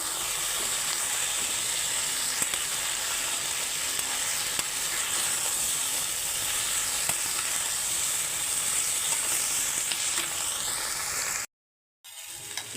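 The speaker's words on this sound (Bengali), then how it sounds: "আমি এখন বেগুন আর পটলও দিয়ে দিচ্ছি একসঙ্গে ভেজে নেওয়ার জন্যে" Eggplant and pointed gourd frying in hot oil with potatoes, a loud, steady crackling sizzle that continues unbroken before cutting out briefly near the end.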